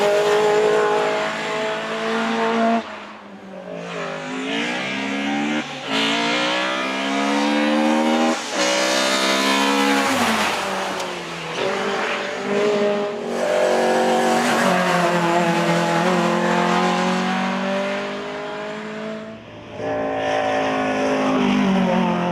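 A lime green Opel Kadett GT/E race car driven hard in a slalom, its engine revving high and dropping repeatedly through gear changes, loud and close with brief tire squeals.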